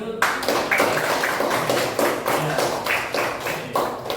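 Children clapping their hands in a classroom, a quick run of sharp, fairly close claps lasting a few seconds.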